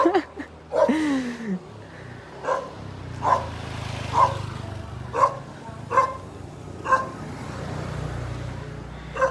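A dog barks repeatedly at a steady pace, a bit distant, over a low rumble of passing traffic in Thailand.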